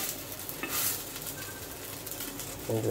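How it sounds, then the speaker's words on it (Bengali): Patishapta pitha, a rolled Bengali crepe, fries in a pan on low heat with a steady, moderate sizzle and light scraping, and a brief clink near the end. "এখন আঁচটা একটু কমে হালকা আঁচে ভাজতে হবে।"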